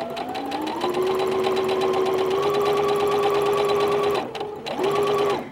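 Sewing machine stitching a welt pocket, a loud, close, steady mechanical whir with rapid needle rhythm that pauses briefly near the end and then resumes.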